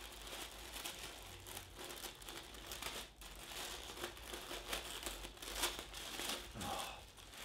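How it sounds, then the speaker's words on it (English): Faint, continuous crinkling and tearing of parcel wrapping as it is carefully peeled open, with soft papery rustles and small rips in a quiet room. "So, carefully peel this off."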